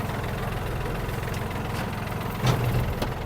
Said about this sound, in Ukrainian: І давайте включимо вал відбору потужності.